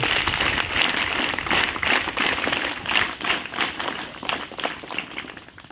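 Audience clapping at an Indian motivational talk on health, a dense, steady patter of many hands that carries on for several seconds at moderate loudness with no voices over it.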